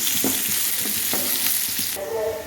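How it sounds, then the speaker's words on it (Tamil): Onion and beetroot sautéing in a pan, a loud steady sizzle with rhythmic spatula stirring strokes, close up and without talk. "வெங்காயம் கொஞ்சம் வதங்கினதுக்கப்புறம் பீட்ரூட் போட்டு நல்லா வதக்கணும்."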